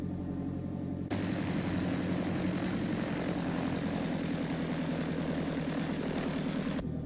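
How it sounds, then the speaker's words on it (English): A PA28R Arrow III propeller engine in X-Plane 12 throttles up from a low idle into a loud, steady drone after about a second, holding its full, even roar with a buzzing propeller beat until the end. "I'm going to advance the throttle slowly, so parking brake released, and you can see the aircraft moving relatively quick"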